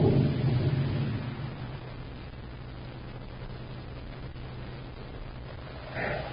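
A thunderstorm sound effect from an old-time radio drama: a heavy rolling rumble of thunder fades into a steady low background roar, with a small swell near the end and no voices.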